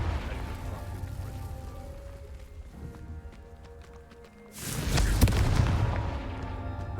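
The Confringo fire spell in the video game Hogwarts Legacy bursts midway as a loud, crackling blast that rises over a steady rumbling game background, with no voices.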